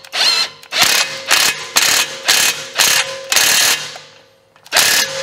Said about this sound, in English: I'm gonna gun it up to start with and then obviously torque up the nut to the correct torque setting.